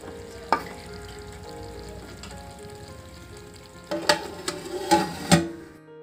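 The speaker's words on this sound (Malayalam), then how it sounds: "ഇടയ്ക്ക് നമുക്ക് ചിക്കൻ ഒന്ന് ഇളക്കി കൊടുക്കാം കേട്ടോ" A chicken curry with coconut milk sizzling in a pan while a spoon stirs it, with soft clinks and scraping bursts near the end over a low, steady sizzle.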